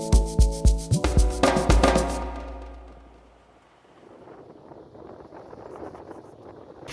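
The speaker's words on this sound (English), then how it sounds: "Got a bit of wind." Wind blowing over a sailboat at sea off the Gambian and Senegalese coast: a rapid series of sharp rhythmic clicks at first gives way to a soft, rushing, breathy wind noise that swells slowly, with no talking.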